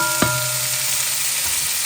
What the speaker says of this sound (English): we're going to saute some of these vegetables.